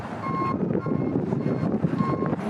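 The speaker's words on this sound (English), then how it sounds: "The tow truck that they're sending to tow us." A tow truck reverses on a mountain road, its backup alarm sounding steady repeated beeps over a low engine rumble at moderate distance.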